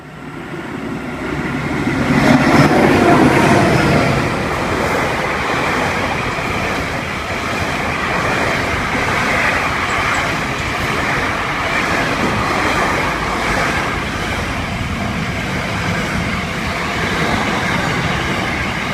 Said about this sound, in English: Oscar H8 arriving into platform 1,